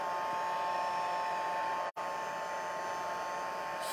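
A heat tool on its lighter setting melts white embossing powder on delicate vellum, giving a steady, loud blowing whir with one brief cutout midway.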